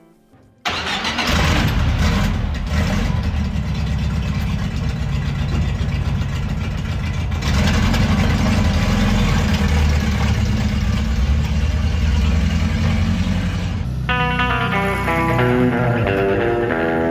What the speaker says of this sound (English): Let's get the car on the road and have a listen to the engine.